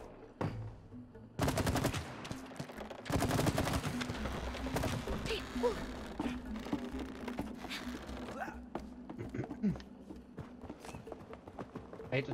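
Bursts of gunfire ring out in the co-op video game It Takes Two, sharp volleys and rapid repeated shots over game effects, with players talking at times.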